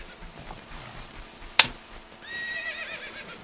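A horse neighs in Ocarina of Time, a sharp burst followed by a rising, wavering whinny toward the end, clear and fairly close against quiet game ambience.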